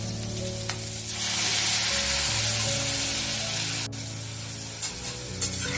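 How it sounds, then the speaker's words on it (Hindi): Tomato puree goes into sizzling capsicum in a pan, raising a loud, continuous frying hiss with occasional stirring scrapes and a brief sharp crackle partway through. "अब इसमें हम लोग टमाटो प्यूरी डाल देंगे"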